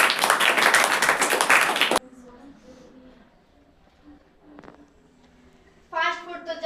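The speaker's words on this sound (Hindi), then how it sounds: "जोरदार ताली दोनों के लिए बजाइए" A school debate audience claps for two debaters on World Food Day, a dense burst of applause that cuts off sharply after two seconds, leaving a quiet room where a voice starts up near the end.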